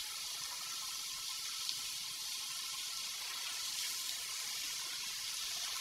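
Chopped onion and celery hit a hot pan for gluten-free stuffing, giving a steady, even, fairly soft sizzle that runs unbroken throughout with only faint pops.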